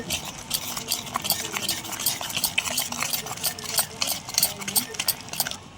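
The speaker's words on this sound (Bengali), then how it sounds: "আমের ব্যাটারটা দিয়ে দিলাম তা ভালো করে মিশিয়ে নেব" Mango cake batter being mixed in a bowl, with a steady run of scraping, clicking stirring strokes close by, continuous and fairly busy throughout.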